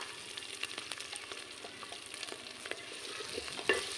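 Ginger, cumin and chilli pastes fry in a pan for mutton curry, a close, busy sizzle with frequent spatula scrapes and taps that continues throughout.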